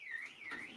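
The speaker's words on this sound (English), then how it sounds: "Yeah, the alarm's going off, but the car won't even start because the battery's dead." A car alarm with a dead battery wails in a rising and falling siren tone, faint and brief, with no talk over it.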